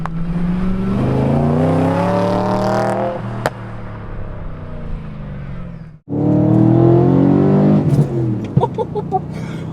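A BMW E92 M3 engine with a Mille Miglia exhaust and Gintani tune revs hard and loud with a raspy exhaust note, drops off briefly, then roars back up with crackles and pops near the end.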